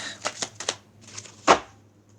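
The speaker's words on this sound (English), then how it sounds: "One more shuffle." Tarot cards being shuffled by hand at a table: a few quick riffling bursts in a short uneven rhythm, close and fairly quiet, ending in one sharper, louder snap of the deck.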